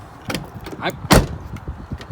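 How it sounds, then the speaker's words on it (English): The door of a lifted Toyota 4x4 truck is swung shut with one solid thump and latch clunk, surrounded by a few lighter rattles and clicks nearby. "when you close this door right here, it's not rattling even nearly half as bad"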